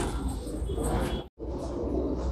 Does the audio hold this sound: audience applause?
no